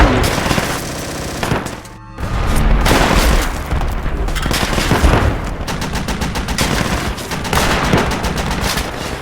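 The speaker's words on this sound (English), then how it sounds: "Oh, someone shooting us." Rapid gunfire rattles in the World War 2 shooter game Project Reality, loud bursts and single shots crowding together across the whole stretch, with a short lull early on before the firing picks up again.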